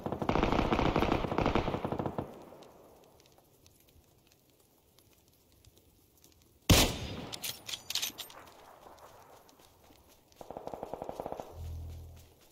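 Video game gunfire: a loud burst of rapid automatic shots up front, then a sharp close crack followed by scattered shots, another short burst near the end and a low thud.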